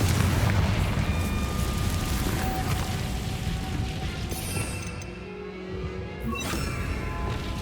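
Explosive spells in Hogwarts Legacy make a continuous roaring boom with crackling blasts, loud and close, easing briefly before rising again.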